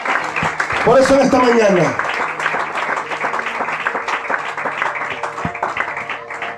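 A church congregation applauds during an evangelist's sermon, scattered clapping running under a preacher's amplified voice, with a brief rising vocal shout near the start.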